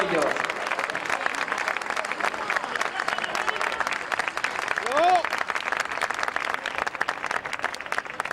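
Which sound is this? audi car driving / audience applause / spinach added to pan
audience applause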